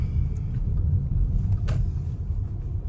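Low, steady road rumble from inside a Tesla car driving along, a continuous close droning hum with a faint brief tick partway through.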